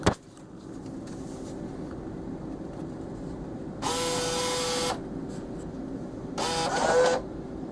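A bill validator in a cigarette vending machine takes in money, giving two bursts of motorized whirring over a steady electrical hum, the second shorter and ending in a faint beep.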